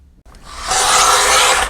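A paper trimmer slicing foil paper for a notebook insert, one close, loud, continuous rasping cut lasting just over a second after a brief click and short quiet start.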